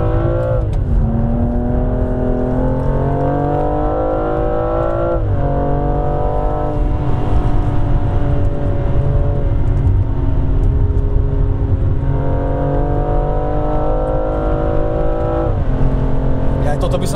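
A BMW M235i F22 engine revving hard while driving, with the pitch climbing repeatedly through gears and dropping at each shift, loud and close inside the car.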